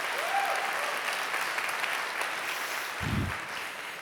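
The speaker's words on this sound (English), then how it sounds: "I think my wife deserves a round of applause" A conference audience at Nordic.js 2019 claps steadily, a wash of applause at moderate distance, with a brief low thump partway through.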